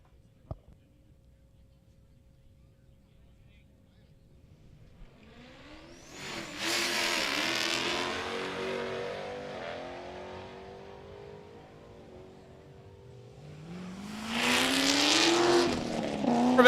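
Drag race cars, a Corvette and a Mustang, launching at Cordova Dragway, starting near silent, then engines roaring up loudly mid-clip, fading slightly, and a second loud launch with rising revs toward the end.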